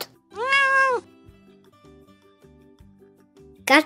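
A single clear cat meow, about two-thirds of a second long and fairly loud, sounds in a children's animal-sounds cartoon, followed by quiet, plinking background music.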